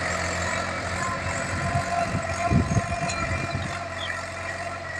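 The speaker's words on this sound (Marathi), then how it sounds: "ट्रॅक्टर आलेला आहे फणायला आणि तुम्हाला दिसत आहे ट्रॅक्टर फणत आहे" A heavy tractor ploughing a field drones steadily nearby, a continuous low rumble with a brief surge in the middle, no voices.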